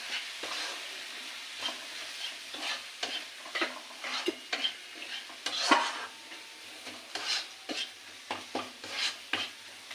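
Ground coriander, cumin and dried chilli masala is stirred and sautéed in a pan for egg and spinach curry, with a soft sizzle under repeated rhythmic scraping strokes of the spoon.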